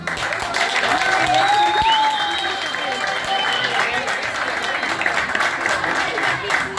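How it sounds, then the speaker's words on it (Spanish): Guests at a family party applaud for Alfredo, a steady round of clapping under festive background noise, with a whistle-like tone sliding through early on. "aplauso para Alfredo"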